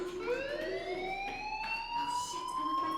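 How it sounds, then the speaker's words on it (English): A fire alarm in the video game Life is Strange wails continuously, a steady rising electronic siren tone sounding loud and unbroken throughout with no voices. "Hey, do you hear that fire alarm?"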